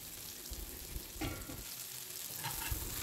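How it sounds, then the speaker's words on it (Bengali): Brinjal slices fry in oil in a kadai with a low, steady sizzle and a few spoon scrapes and knocks, ending in a louder clatter. No one speaks. "এদিকে আমাদের বেগুনগুলো কিন্তু ভাজা হয়ে গেছে। এখন তেল থেকে তুলে নিতে হবে।"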